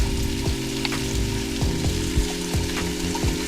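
Chopped vegetables sweat in a soup pot for vegetable broth, giving a steady sizzle with repeated scraping and stirring knocks from a utensil against the pot, close and alone.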